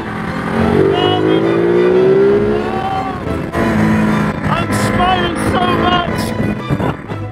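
Ducati Multistrada V2S motorcycle engine on a test ride, a steady smooth drone with rising pitch sweeps as it accelerates, loud and close, with wind and some voice over it.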